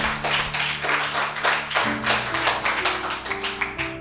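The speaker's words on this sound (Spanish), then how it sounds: "Dele palmas al Señor." A church congregation claps for the Lord in a steady, rhythmic beat of many hands, with music sustaining underneath.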